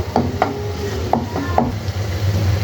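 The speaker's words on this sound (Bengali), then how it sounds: "এবার আমি এই শুকনো মশলাগুলো ভালো করে তেলের সাথে একটু কষিয়ে নিব" Dry spices being fried in oil for a sea poa fish curry, with sharp spoon-against-pan clacks and scrapes over a low background hum and a faint sizzle.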